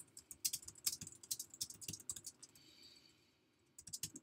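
Rapid, uneven clatter of keys on a computer keyboard while entering a data set name in R, close and fairly quiet, with a short pause before the typing resumes.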